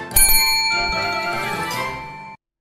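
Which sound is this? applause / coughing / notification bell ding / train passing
notification bell ding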